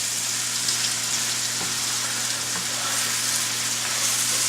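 Cauliflower hash browns in a frying pan, giving off an even, steady sizzle with an occasional faint tick, close up and with no voices.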